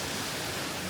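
A tall waterfall in Hinokage, Miyazaki, dropping straight down in one line, gives a steady, loud, broadband rush with no break and no voices.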